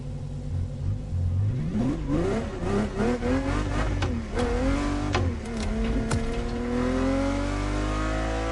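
The LaFerrari supercar in the racing game The Crew Motorfest, its engine revving up through several rising pulls and gear changes, loud and close, settling into a sustained high drone, with no talking.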